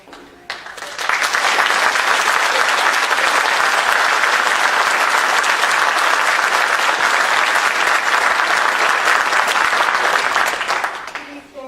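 Audience at a Democratic town meeting on guns in Holliston, Massachusetts, breaking into loud, sustained applause that builds quickly, holds steady for about ten seconds, then tapers off. No one talks over it.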